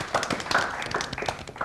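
A studio audience at a demonstration-based science quiz show gives a guest a quiet round of applause, heard as a loose, uneven scatter of individual hand claps rather than a full roar.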